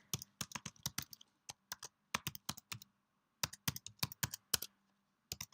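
Someone types a login email and password on a computer keyboard, with quick close bursts of key clicks broken by short pauses.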